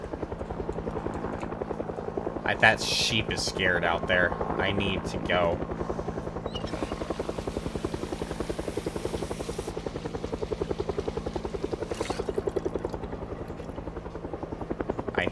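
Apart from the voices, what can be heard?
helicopter flying overhead in a zombie video game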